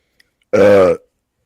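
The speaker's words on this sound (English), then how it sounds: "He loves burping on every video we make." A single loud, deep burp rolls out for about half a second, close and alone against silence.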